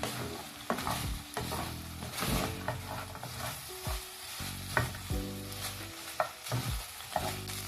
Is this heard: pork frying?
yes